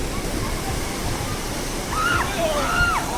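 Steady rushing of Manche waterfall in Devgad fills the background while people's voices and a few high calls ring out over it.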